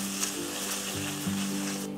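Onion, ginger and garlic paste fries in hot oil with a steady close sizzle and soft crackle, a faint hum running underneath, no voice.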